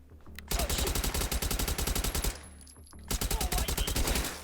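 A gun in a video game fires loud, rapid automatic bursts, close and continuous. The shooting breaks off briefly under a high electronic tone, then resumes.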